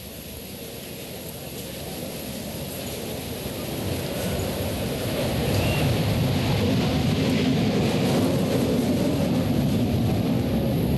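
A single-engine jet fighter with a Pratt & Whitney F-100 engine rolls for takeoff at an airshow, a broad steady roar that builds louder over several seconds and holds at a distance, with no talk.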